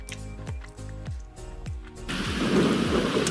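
Heavy rain and repeated rumbling thunder in a GTA V storm: a series of low thunder booms gives way to a loud, dense downpour that swells and fills the last second.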